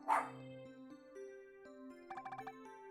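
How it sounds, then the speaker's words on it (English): A giraffe cry in the video game Pixel Puzzle Makeout League sounds like a dog barking: one sharp bark-like yelp, then tonal electronic notes and a quick run of five short pulsing calls, all fairly faint. "It's the cry of the noble giraffe crossing the savannah."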